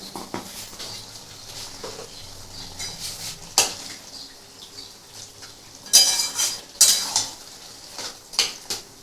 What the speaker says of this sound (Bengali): একটু ভালো করে কষি তারপর তোমাদেরকে দেখাবো